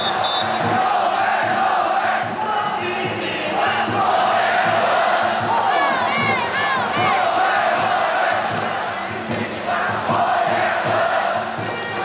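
A large crowd at a professional baseball game in Taiwan chants and cheers in unison, led by a megaphone cheerleader, with a dense, sustained roar of many voices.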